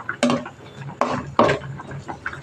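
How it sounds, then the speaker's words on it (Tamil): A spoon scrapes around a pot of curry leaf kuzhambu in a few short, uneven stirring strokes, close and fairly loud, with soft clatter between them. "நல்லா கிண்டி விட்டுக்குவோம்"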